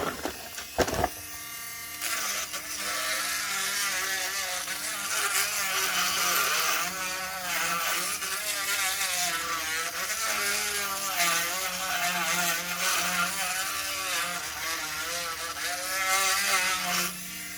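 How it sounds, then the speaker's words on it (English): Power grinder working over curb rash on a Tesla wheel rim, a loud, steady high-pitched whine that wavers in tone as it presses into the metal, running continuously after a brief start-up. "grind all the bigger parts out and just smooth out all the uneven areas"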